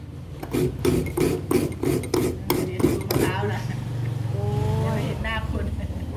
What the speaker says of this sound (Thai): เดี๋ยวจะขูดมะพร้าวนะคะทีนี้